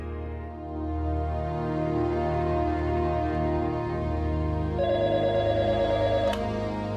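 A telephone rings as a call is placed to a son-in-law in a quiet home, a steady electronic ringing tone running under background music throughout.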